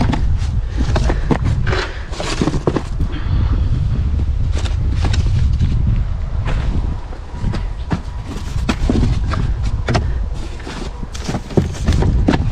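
Gusty outdoor wind buffets the microphone with loud low rumble across a garden site where a raised vegetable bed is being built, with occasional thumps and handling knocks throughout.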